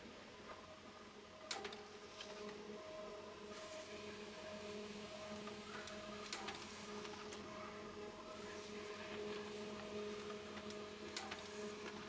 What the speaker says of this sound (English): Now, let's print a test page to check the result.